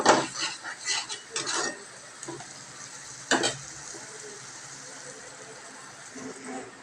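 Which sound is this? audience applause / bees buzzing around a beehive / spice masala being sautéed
spice masala being sautéed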